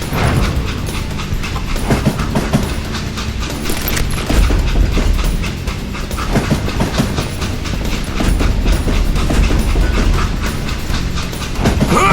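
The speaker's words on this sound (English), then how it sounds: "It was then that Jesse detached the express car from the rest of the damn train." A train in the Call of Juarez: Gunslinger video game rumbles loudly and continuously, with rhythmic clickety-clack of wheels over rail joints and mechanical clanks throughout, no voices.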